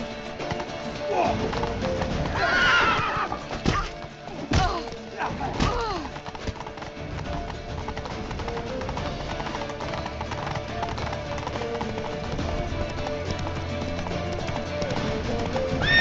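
Horse hoofbeats in The Witcher 3 video game, clip-clopping steadily under a busy mix of shouting voices, music and game effects, with a few thuds early on.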